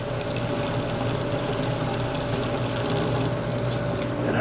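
Hot water rushes steadily into an ice machine through a cold-water line, giving a continuous, even hiss of flowing water with no break from start to finish.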